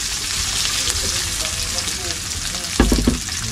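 Chili and onion frying in a hot pan, a dense, steady sizzle with a louder burst of stirring and clatter near the end, heard up close.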